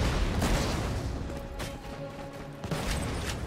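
Several sharp bursts of gunfire and booms cut through a dense, noisy Borderlands 2 game soundscape, with scattered mechanical clatter.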